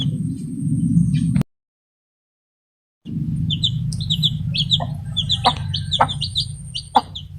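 Hens and a rooster cluck and chirp close by in a chicken breeding pen, with busy overlapping calls over a steady low background hum, broken by a short silent gap.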